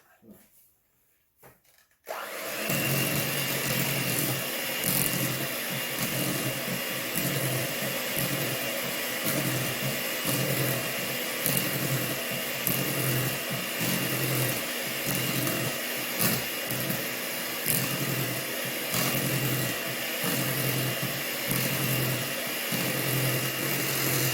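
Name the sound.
mixer mixing PSMF bun batter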